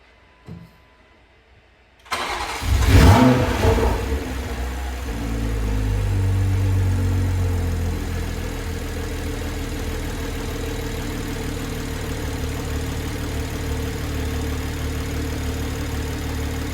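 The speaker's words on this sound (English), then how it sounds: "let's fire this thing up real quick" A Toyota A90 Supra with a B58 engine cranks and fires after a short silence, flares loudly in a quick rev, then settles into a steady, close, even idle.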